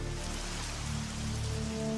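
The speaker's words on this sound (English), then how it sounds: "Liquid methane, it seems, rains down on Titan, or did at one time." A rain sound effect stands in for liquid methane rain falling on Titan, a steady, even patter of drops holding at moderate loudness with a low hum beneath and no voices.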